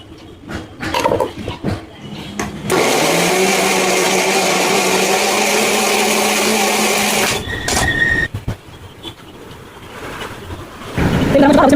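Mixer grinder whirring loudly and steadily for about five seconds as it grinds tomato, onion, green chilli, garlic and seeds, with short clatters and handling before and after, and someone talking briefly around it.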